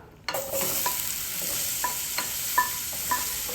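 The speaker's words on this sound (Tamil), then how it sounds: "பேனில் நம்ம பைனாப்பிள் வதக்க போகிறோம்" Marinated pineapple pieces dropped into a hot pan and sautéed, starting with a sudden sizzle that holds steady while a spatula scrapes and taps the pan several times, close and without talk.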